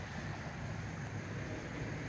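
A swollen, muddy river swells after heavy rain, giving off a continuous low roar and rush of water mixed with wind noise against the microphone, steady and fairly loud with no speech.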